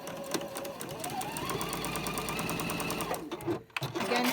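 A sewing machine stitches a quarter-inch patchwork seam for a star block table runner, a fast steady mechanical chatter running close for several seconds before a brief stop and restart.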